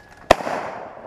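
A single shotgun blast at a flying clay target, sharp and loud up close, followed by a brief fading echo, with no talking.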